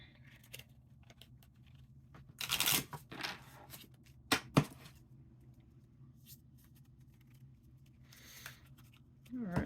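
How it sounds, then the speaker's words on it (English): Tarot cards being shuffled by hand in a few quick riffling bursts with soft rustles between them, close and moderately loud in an otherwise quiet room. "More shuffle."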